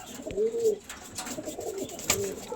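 A female pigeon gives a few soft, low coos close by, with brief rustles and faint background noise between them.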